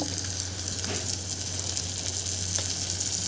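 Potatoes, cabbage and tomatoes sautéing in a pan for veg dal khichdi, a steady close sizzle and crackle with an occasional stir.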